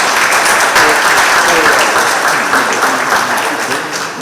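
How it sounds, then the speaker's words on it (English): Delegates at a PNM San Fernando East constituency annual party conference applaud loudly, a dense, sustained burst of many hands clapping that tapers slightly toward the end. "That deserves a wonderful applause,"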